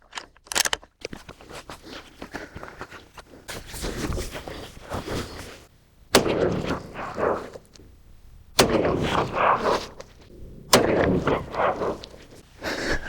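Three sharp rifle shots at 100 yards from a .243 Winchester or 6.5 Creedmoor crack loudly outdoors in Arizona, each a sudden blast trailing off, separated by quieter stretches of rustling and shuffling movement nearby.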